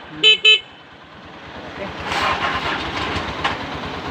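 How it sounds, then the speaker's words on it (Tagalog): Two short, sharp honks of a small horn close by, followed by an engine revving and running steadily. "ito na yung busina ko"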